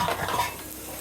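Vegetables for a hotel-style niramish dish fry in a pan, sizzling and hissing up close while tongs stir them, giving a brief burst of scraping and clinking over the steady fry.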